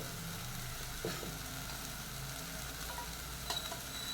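Tomatoes sautéing lightly in a pan give a steady, close sizzle with faint stirring scrapes, one brief clink partway through, and no one speaking.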